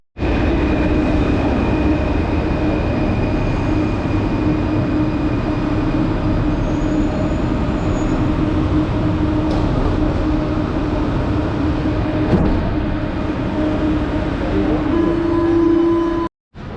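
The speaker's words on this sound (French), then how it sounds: "On va prendre le métro." Steady, loud rumble of a Paris metro train riding along, continuous wheel and motor noise filling the whole stretch with a brief squeal-like tone near the end, no voices over it.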